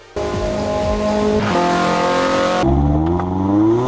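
A synthetic car engine in the video game The Crew 2 revs hard, its pitch climbing through several gear shifts with abrupt cuts, loud and close.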